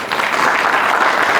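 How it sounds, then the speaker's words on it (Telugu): An audience gathered for a satsang at a Sri Venkateshwara Swamy temple claps loudly, a dense, sustained burst of applause from many hands with no talk over it. "గట్టిగా చప్పట్లు కొట్టండి"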